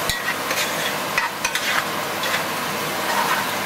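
An onion and garlic mixture sizzles in a pan over medium heat, a steady hiss broken by several clinks and scrapes of stirring, with no voices.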